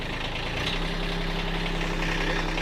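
A Kubota B2601 compact tractor engine idles with a steady, close, low rumble that continues evenly with no voices.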